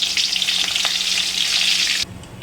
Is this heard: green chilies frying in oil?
yes